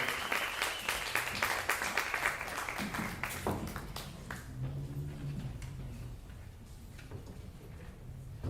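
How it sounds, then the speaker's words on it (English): An audience applauds a band at a piano and vocal showcase, loud sustained clapping that gradually thins and fades as low instrumental tones come in beneath it. "One more round of applause for my band"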